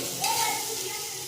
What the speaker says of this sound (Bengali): তেলের মধ্যে সুন্দর করে লবণ হলুদ কষিয়ে নিয়েছি